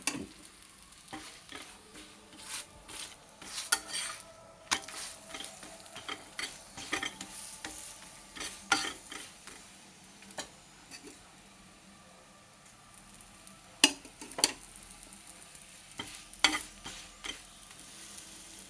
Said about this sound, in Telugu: ఇప్పుడు రెండో చపాతీ చేస్తున్నాను